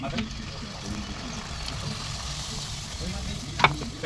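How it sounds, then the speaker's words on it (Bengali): Puffed luchi flatbreads deep-fry in hot oil for a Kali puja food offering, with a steady, even sizzle over a low rumble and one brief sharp clink near the end. "এবার ভোগের জন্য ফুলকপি ফুলকো লুচি ভেজে নেওয়া হচ্ছে"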